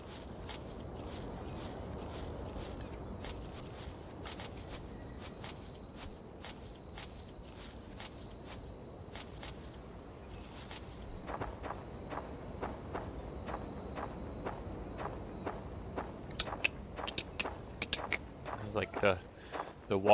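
Footsteps through grass in the video game Better Late Than Dead: soft rhythmic crunching clicks that grow sharper and more frequent toward the end, with some talk underneath.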